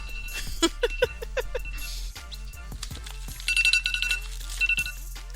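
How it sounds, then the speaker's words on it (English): A phone alarm rings in a series of bright repeating electronic tones, with a steady low hum underneath and clattering handling noises between the bursts. "I set my alarm and it's going off."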